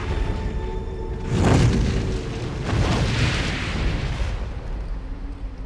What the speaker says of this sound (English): Charizard, fire blast the eastern corner.